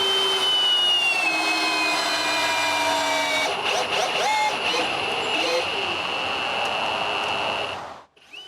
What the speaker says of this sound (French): je visse une vis à l'arrière.